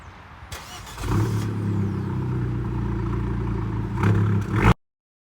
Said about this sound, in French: vous pouvez entendre ce magnifique bruit des 180 chevaux